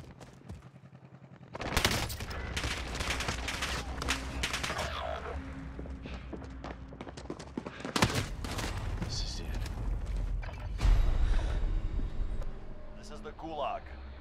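Gunfire in the video game Call of Duty Warzone, with repeated bursts of automatic weapons and loud blasts erupting in clustered volleys, mixed with game clatter and shouted voices over the action.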